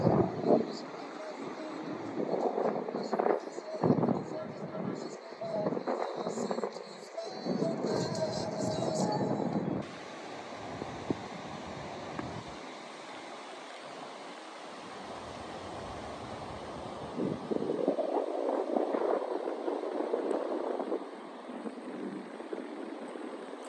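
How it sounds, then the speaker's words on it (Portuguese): Wind gusts buffet the microphone on a seaside promenade by a beach in Bertioga, with surf rumbling and people talking nearby, the blowing strong and continuous throughout. "Estamos ouvindo o barulho do vento?"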